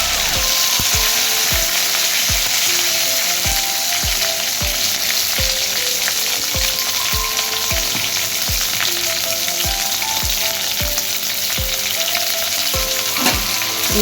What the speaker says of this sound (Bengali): ভেন্ডি কটা ছেড়ে দিলাম তেলের মধ্যে।